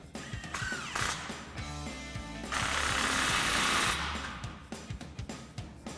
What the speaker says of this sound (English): slide our clamp into place and take a 15mm socket to tighten it down